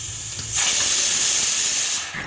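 A pressure cooker full of carrots cooking in milk lets out a sharp, loud hiss of steam that bursts in suddenly, holds for about a second and a half, then fades, heard close and without voices.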